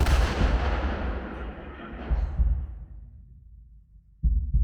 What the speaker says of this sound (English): simulated mortar explosions that occur when a spark plug ignites a combination of propane and oxygen